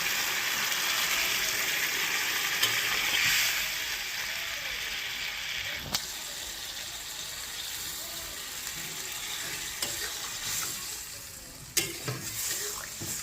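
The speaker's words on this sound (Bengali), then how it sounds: "এবার আমি জল দিয়ে দেবো।" Water poured into a pan of fish frying in oil, a loud hiss that settles into steady sizzling and bubbling, broken by occasional sharp clicks and clatters of a utensil.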